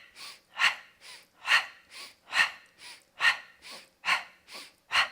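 Forceful pumping breaths during a Pilates core exercise, about eleven sharp rhythmic exhalations alternating stronger and softer, close and clear with no talking.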